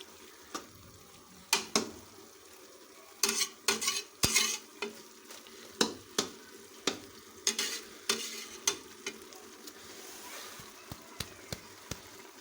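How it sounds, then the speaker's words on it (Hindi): Carrots are stirred into rice in a pot with a spoon, giving irregular scraping and clinking knocks over a soft background sizzle, close and fairly quiet, with no talking. "गाजरें शामिल करने के बाद इनको मिक्स कर लें चावलों में।"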